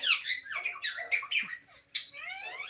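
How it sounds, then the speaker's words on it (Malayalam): A bird gives a run of harsh, squawking calls with squeaky rising notes, close by and fairly loud, with a short pause before a final burst. "അത് കിളിയാണ്"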